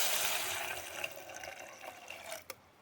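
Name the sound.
water poured into a cooking pot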